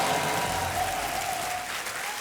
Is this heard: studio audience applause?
yes